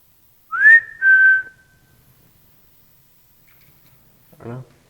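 A clear rising whistle and a second held whistle come one after another inside a haunted school, then a short burst of voice follows after a long quiet gap.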